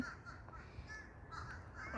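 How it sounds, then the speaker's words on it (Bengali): Several crows caw from the trees on a cold, cloudy day, repeated harsh calls at moderate distance over a low outdoor background. "আজকে প্রচুর কাক"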